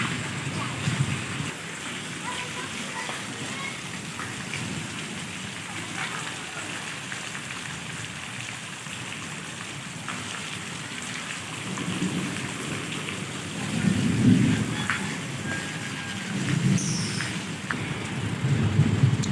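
Heavy rain pours steadily on a road during a hot-weather downpour, with low rumbles of thunder rolling in and swelling louder near the end, no voices over the continuous hiss.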